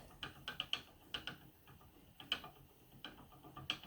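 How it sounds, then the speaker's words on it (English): A rattling bobbin on a spinning wheel, heard during a demonstration of spinning with beads. It makes a quiet, uneven series of light ticking clicks, some in quick clusters, with no voices. "It's my rattly bobbin again."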